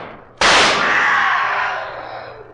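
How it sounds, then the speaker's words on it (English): A single loud pistol gunshot in a radio drama, a sharp close blast after a brief quiet moment, followed by a long ringing echo that fades gradually with no voices over it. "Quick, fire your pistol."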